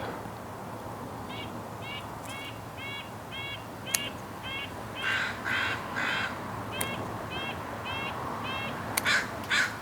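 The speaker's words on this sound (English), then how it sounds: "crows are having a field day today" Crows caw outdoors in repeated short harsh calls, several in a row, with a few louder caws standing out over a steady background hum during bonsai pruning work.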